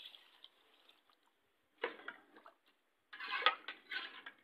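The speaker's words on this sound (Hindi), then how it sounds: "तो अब हम इसमें लगाएंगे पानी।" Water poured into a pot of frying dal gives a bright sizzling hiss in two close bursts, the second louder and longer, with soft metallic clinks from the pot between them.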